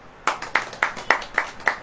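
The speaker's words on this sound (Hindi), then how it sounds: "ताली बजाओ।" An audience at a religious sermon claps hands together in steady rhythmic unison, about six sharp, evenly spaced claps, close and fairly loud.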